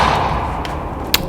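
A Depulso spell is cast in Hogwarts Legacy, a short whooshing burst ending in a sharp thud over a steady game background.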